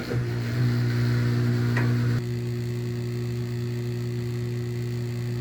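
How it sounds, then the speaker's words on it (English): A GE stackable washer-dryer combo starting up after repair, a loud steady motor hum with a low droning tone, a brief clunk near the middle as the gear engages, then a slightly quieter continuous hum as it runs. "Let's turn the washer on and see if the gear engages."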